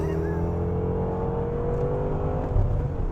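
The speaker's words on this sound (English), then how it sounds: "Second gear pull, full throttle, 3, 2, 1, go." 2014 BMW M6 coupe pulling hard in second gear at full throttle, the engine's tone climbing steadily under a constant cabin roar, with a thump near the end.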